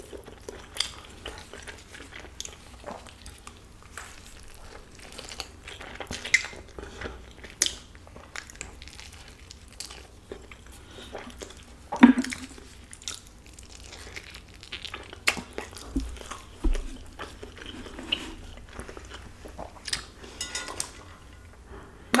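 Close, quiet chewing and biting of Shin Ramen stir-fry with sticky pork slices, with soft irregular crunches and wet mouth sounds and one sharper bite standing out midway.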